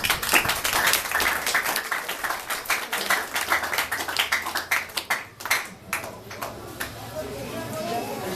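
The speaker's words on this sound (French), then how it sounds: "on vous demande à l'Assemblée de l'applaudir cette cérémonie cet après-midi" Wedding guests clap at the start of a ceremony, sharp uneven handclaps that are strong early and thin out, with voices talking underneath and after the clapping fades.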